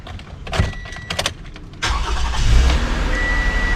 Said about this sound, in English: First, I'm going to start up the engine.